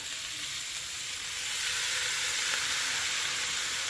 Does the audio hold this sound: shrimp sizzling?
yes